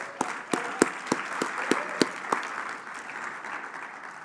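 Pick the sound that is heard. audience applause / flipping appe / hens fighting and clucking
audience applause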